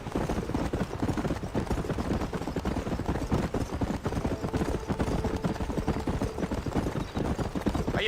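Horse galloping in the Red Dead Redemption game, a dense and steady rhythm of hoofbeats that carries on through the whole stretch, close and even in loudness.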